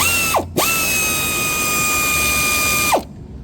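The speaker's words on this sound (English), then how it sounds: "now loosen up those 4 bolt 14 millimeter" A powered ratchet spinning out 14 mm bolts on the front timing cover of a 2013–2016 Kia Optima 2.4L GDI produces a short whir, a brief pause, then a longer steady mechanical whine that stops abruptly, close and loud.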